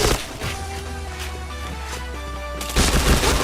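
Rapid bursts of gunfire ring out in the PointBlank shooter game, loud repeated shots over a steady in-game background hum, ending in a denser, louder volley.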